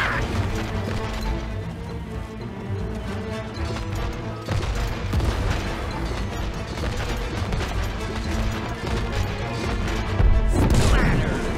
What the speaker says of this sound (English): May, I don't like their cannons